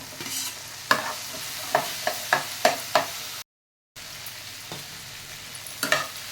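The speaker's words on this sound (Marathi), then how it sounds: "भेंडी चांगली 2 मिनिटं परतून घ्या।" Chopped okra stir-frying over high flame in a pan, a steady sizzle broken by a series of sharp spatula scrapes and clacks, clustered early and again near the end, with a brief silent gap midway and no voices.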